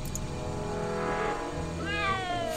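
A cat meows in the Back to the Future video game, a drawn-out, wavering cry heard clearly over a low background music bed, with no talk.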